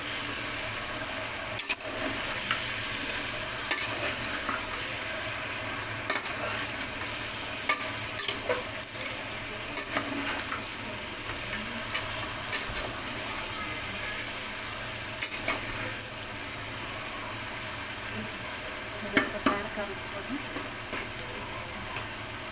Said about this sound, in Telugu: ఒక చెంచా సగం గరం మసాలా ఇవన్నీ వేసుకున్నాం కదా ఒకసారి కలుపుకోవాలి